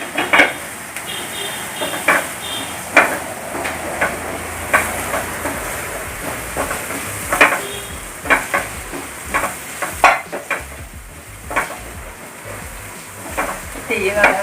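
Onions and chicken cutlet mixture stirred in a hot pan, with repeated scraping clacks of a spoon against metal over a soft continuous sizzle, close and fairly loud.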